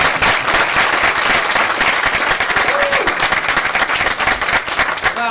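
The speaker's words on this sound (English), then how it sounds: "big round of applause" Dense, sustained applause from an audience at a D.C. event welcoming a mayor, steady broadband clapping filling the whole stretch with a brief tonal sound partway through.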